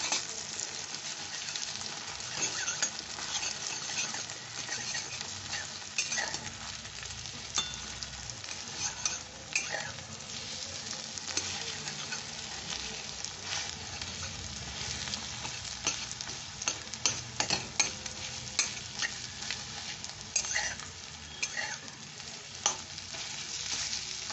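Salted, beaten egg fries in white cooking oil in a pan, giving a constant crackling sizzle with scattered small pops and scrapes of stirring, close and without any talk.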